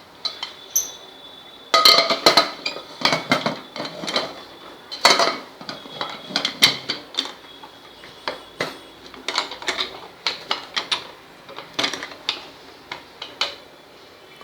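A metal lid is handled and fitted onto a preheated pressure cooker with its whistle removed and a cake tin inside for an eggless chocolate cake, giving many close metallic clinks, taps and scrapes in irregular bursts.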